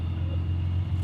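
A Datsun 280Z idles through a Fujitsubo-style muffler, giving a steady, quiet, low rumble that holds an even drone for the whole second.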